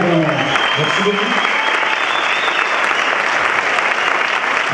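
Audience at the closing ceremony of a fiction festival in La Rochelle applauds steadily and loudly, a dense wash of clapping that continues after a brief voice at the start.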